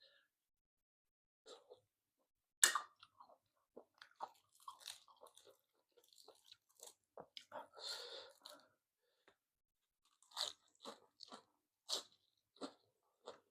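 Biting and chewing grilled squid on skewers, close crunchy bites followed by scattered wet chewing and munching sounds with quiet gaps between them.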